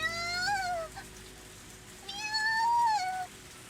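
Cat meowing in the visual novel game ONE: Kagayaku Kisetsu e, two drawn-out rising and falling meows a couple of seconds apart, clear and close, with no talk.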